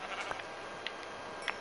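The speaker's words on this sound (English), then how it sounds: "Wait, is that a sheep? Oh, it's a pink living sheep." A pink sheep in Minecraft gives a few short, faint bleats over a quiet game background.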